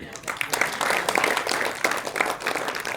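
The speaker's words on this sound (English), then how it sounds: "Now she's clapping because I saw her." Clapping from the audience at an entrepreneurship session rolls along as a steady, moderately loud patter of many hands, lasting about three seconds at an even intensity.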